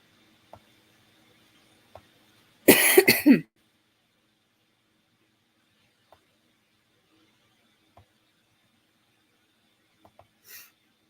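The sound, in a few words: coughing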